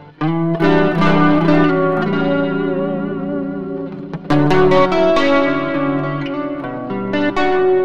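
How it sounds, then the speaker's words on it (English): Electric guitar through an Axe FX 3 patch with overdrive drive raised to about five strums sustained, gritty chords, a short pause, then another crunchy chord ringing out with a spacious echo. "Let's try out some more drive. Give it all the way up to five or so."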